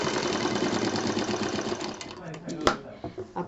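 A sewing machine stitches a patchwork bed cover in a loud, continuous rhythmic whirr, then stops with a few clicks and handling knocks while a voice talks over it.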